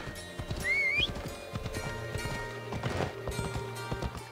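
Horse hooves clip-clopping at a run in the video game Assassin's Creed Odyssey, with whinnies and a steady rhythmic gait under game music, fairly loud and close.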